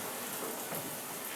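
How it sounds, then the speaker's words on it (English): Rain pours steadily during a storm, a dense continuous hiss of falling water heard alone at an even level throughout. "It's raining."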